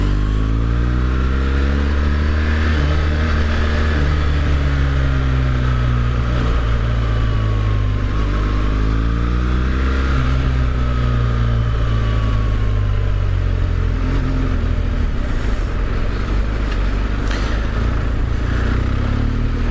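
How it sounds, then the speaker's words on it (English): Busy London rush-hour traffic heard from a BMW GS motorbike: a steady, loud engine drone with rising and falling revs as it moves through the streets, with other vehicles rumbling close by. "it's just the start of rush hour in London, so it's quite busy"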